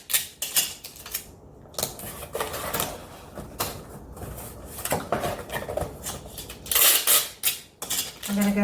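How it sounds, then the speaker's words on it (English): Packing tape is pulled off the roll and pressed over a push-in handle on a cardboard shipping box. Close, repeated ripping and crackling bursts come in an uneven rhythm, with no talking. "So I'm going to make sure and tape over it."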